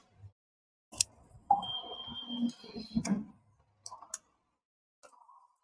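Chalk tapping and scraping across a classroom board as a teacher writes a word, with sharp clicks, scratchy strokes and a brief thin squeal, in separate bursts between short silences.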